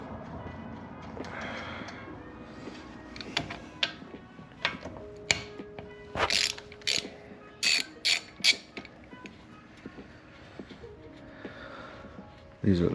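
Hand ratchet backing out bolts on a Jeep Wrangler JL axle assembly, clicking in rapid bursts with clanks of tools and metal parts nearby, close and fairly loud.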